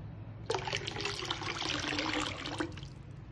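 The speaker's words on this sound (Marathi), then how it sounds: "थोडंसं अजून पाणी त्यामध्ये ॲड करायचं आहे" Water is poured into a pot while raw mango panha is being prepared, a close, steady splashing gush lasting about two seconds before stopping, with no talking over it.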